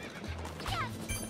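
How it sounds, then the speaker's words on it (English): Horse in the video game Princess Peach: a short whinny rising over hoof clatter and a clunk, moderately loud, with faint background game sounds and no clear speech. "Did I hear his horse?"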